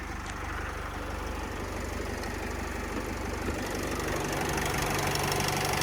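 A 2012 Opel Vivaro van's 2.0-litre diesel engine idles steadily nearby, a continuous low rumble with a faint knocking texture, growing slightly louder toward the end.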